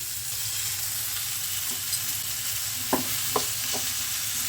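Spinach curry with green chilli frying in a pan, a steady soft sizzle with a few sharp scraping clinks of a spatula as the greens are turned over, close and alone.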